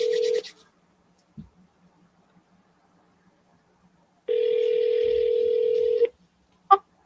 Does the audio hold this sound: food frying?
no